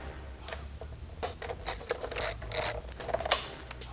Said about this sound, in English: To do that, we will remove these 4 hex fasteners.